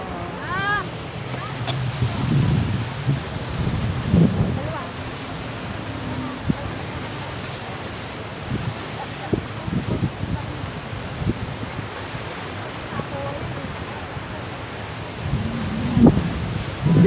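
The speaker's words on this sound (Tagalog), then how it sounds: "itong Bahamias Falls." Rushing water at Banias Waterfall in Israel: a steady, broad roar of falling water with wind buffeting, while people talk nearby over the constant wash.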